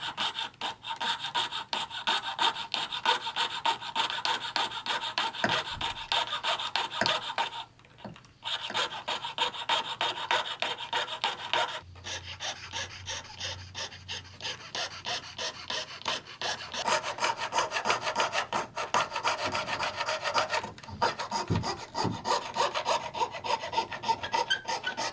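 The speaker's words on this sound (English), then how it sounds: "start cutting through this back end of the chassis" A file rasps back and forth through the rear end of a Scalextric slot car chassis, close rhythmic scraping strokes that keep going with a couple of short pauses.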